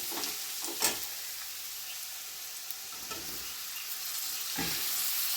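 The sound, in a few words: stirring tomatoes frying in a pan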